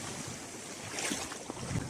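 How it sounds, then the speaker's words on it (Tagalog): A small boat island hopping around the Mercedes Group of Islands, bumping through fairly strong waves amid heavy wind rush and splashing, with a few dull knocks of the hull. "Medyo bumabangga-bangga ang alon,"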